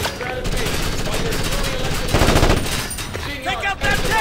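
Rapid automatic gunfire in the tactical shooter Ghost Recon Advanced Warfighter, loud, dense bursts rattling continuously with a heavier volley midway, while voices call out faintly beneath the shots.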